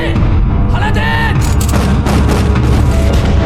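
A matchlock gunfire volley from a Ming-era battle scene in a war film: heavy booming shots burst out over dramatic music and shouting voices, crowded together near the middle of the clip.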